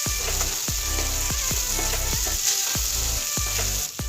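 Chopped tomato sizzles and fries with browned onions in a pan for paneer butter masala, under a steady hiss. A spoon scrapes and stirs in a regular rhythm, making about eight distinct strokes, and no one speaks.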